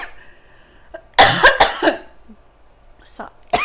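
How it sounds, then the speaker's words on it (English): A person coughs in a quick burst of several harsh coughs and clears the throat, close and loud, with a short throaty rasp trailing off afterward. "let me get a cough out here"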